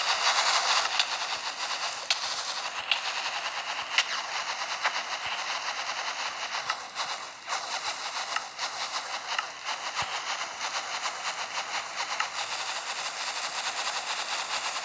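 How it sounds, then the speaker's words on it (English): A 531 rpm rapid-fire machine gun contraption fires in Minecraft with a continuous, dense hissing roar, flecked with rapid clicks and occasional sharper pops. "that about finishes my tutorial on this basic rapid fire machine gun"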